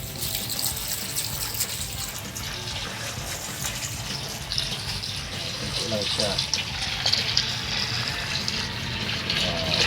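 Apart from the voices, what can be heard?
water pouring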